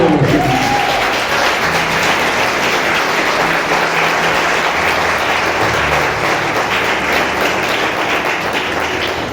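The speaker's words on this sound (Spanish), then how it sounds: "Aplaudan a Dios." A church congregation applauds during a Spanish-language sermon, a long continuous wash of many hands clapping, loud and steady, with faint voices beneath.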